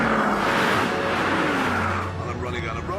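A Mercedes Brabus SL races down a runway at about 180 mph. Its engine gives a loud, sustained roar and wind rush that eases slightly toward the end, while someone talks over it.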